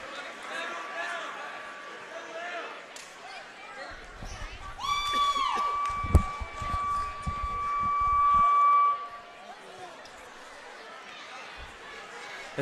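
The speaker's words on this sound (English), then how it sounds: "As Mr. Brian Reese sets off the fire alarm here in Lansing" A fire alarm sounds in a Lansing high school gym during a basketball game: a steady electronic tone rings out for about four seconds over crowd chatter, sneaker squeaks and ball bounces, then stops.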